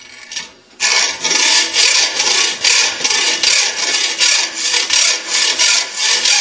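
A rubber oil line is cut with a hand tool in rhythmic rasping strokes, about a dozen close, loud back-and-forth scrapes after a brief pause at the start.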